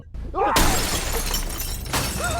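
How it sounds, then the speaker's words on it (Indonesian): A car window is smashed, with a loud burst of shattering glass followed by a sustained spray of falling shards, while faint voices are heard just before the impact. "Seseorang bertopeng oni merah menghampiri mobil, menghancurkan kaca mobil."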